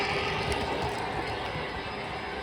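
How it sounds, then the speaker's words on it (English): A model train runs along a layout with a steady rolling rumble and a rhythmic clickety-clack from the wheels, close and fairly loud, with no talking. "What a cool train."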